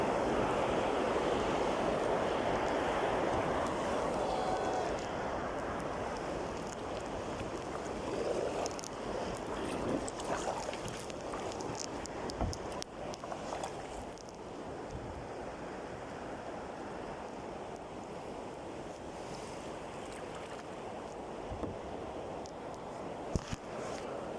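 Water pours over a river weir in a steady, broad rushing wash heard from a kayak nearby, with wind buffeting the microphone and a few faint knocks and splashes.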